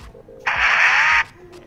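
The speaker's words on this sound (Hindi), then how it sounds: "जैसे ही मैं मेन्यू पे गया, ये फरारी जैसी आवाज़ किया," Opening the menu on a Ferrari-style feature phone triggers a loud, dense revving sound like a car engine, lasting under a second before cutting off, with faint background noise around it.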